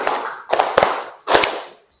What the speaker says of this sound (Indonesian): tepuk tangan 5 kali.